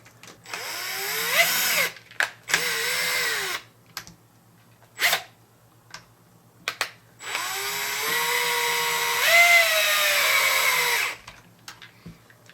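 A cordless power driver whirs in several short bursts and one longer run, sending screws into the plastic suspension arms of an HPI Savage XS Flux mini monster truck, each burst rising in pitch, with quiet clicks in the gaps.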